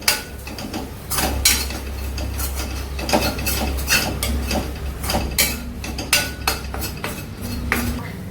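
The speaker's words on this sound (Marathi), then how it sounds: "आता आपण टाकूया थोडंसं तिखट आणि हे सगळं मिक्स मिक्स मिक्स करायचं" An onion, turmeric, chili powder and coriander-cumin masala stirred in a kadhai, a busy run of metal spoon scrapes and clinks against the pan, close and loud, irregular and continuous, no talking.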